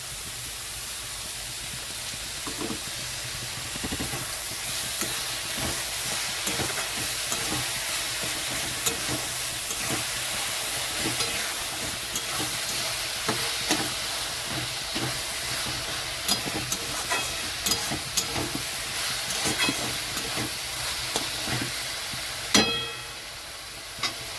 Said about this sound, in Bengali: পেঁয়াজটাও হাফ ভাজা হয়ে গেছে, তো এখানে আমি দিয়ে দিচ্ছি আদা আর কাঁচা লঙ্কা বাটা